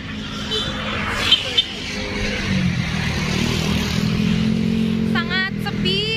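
A bus and road traffic pass outside the former Colomadu sugar factory in a close engine rumble that swells and fades. A brief chirping squeal comes near the end, and people talk over the noise.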